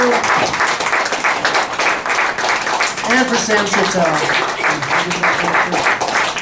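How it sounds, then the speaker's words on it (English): An audience at an MFA reading showcase claps in a loud, sustained round while a person speaks over the applause. "Another round of applause for President Joe Chert, 2032"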